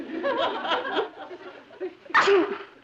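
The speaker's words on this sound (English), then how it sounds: "If they could stop me from sneezing." A single sharp sneeze bursts out near the end, after a stretch of soft voiced sounds.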